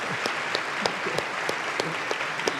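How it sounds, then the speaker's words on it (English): Moderate audience applause at a leadership summit, a sustained patter of many hands with a few sharper individual claps standing out near the front. "Now you can clap"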